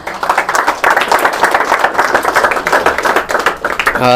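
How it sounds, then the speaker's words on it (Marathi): An indoor audience claps loudly for a guest at a Pune study-centre talk show, dense continuous applause sustained for about four seconds before fading out. "मित्रांनो शुभम माने सरांसाठी एकदा जोरदार टाळ्या होऊ द्या"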